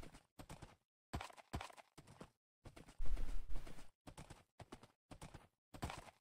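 Horse hooves clip-clop in Minecraft, the game from the Dream SMP series, in a string of short, evenly spaced bursts, with one louder, denser stretch midway, heard alone and fairly close.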